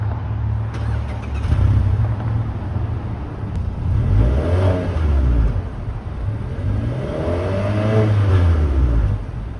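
A 2021 Mazda 3 AWD compact sedan with twin rear exhaust tips revs twice, each swell rising to a throaty peak and easing back over a steady low idle rumble, close and loud with no talking.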